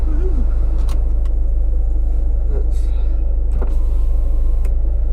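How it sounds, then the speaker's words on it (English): A vehicle engine hums steadily from inside a car, with a low constant drone and faint passing traffic as a van turns around behind the car. "Got a van turning around behind us."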